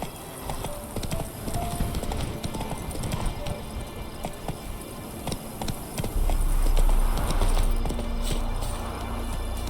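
Horse hooves clip-clop at a gallop in the video game The Witcher 3: Wild Hunt, a steady rapid patter with a faint whinny, mixed with game ambience and a heavier low rumble in the last few seconds.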